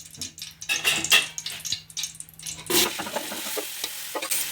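Grated carrots hit a flat pan of hot ghee for gajar ka halwa, with a burst of sizzling and the scrape and clatter of a spoon stirring, loud and close, in uneven bursts.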